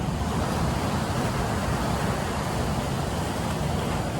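Heavy ocean surf from big swells, a steady broadband roar of breaking waves with some wind buffeting the microphone, loud and continuous throughout with no talking.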